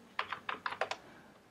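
Six crisp keystrokes on a Mac computer keyboard, typed in a quick, uneven burst while entering a command. The clicks are close and clear, with no voices.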